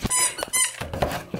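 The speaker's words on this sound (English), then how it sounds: "is very into her squeaky toy" A dog's squeaky rubber toy squeaks repeatedly in quick, irregular bursts, loud and close, indoors with no talking.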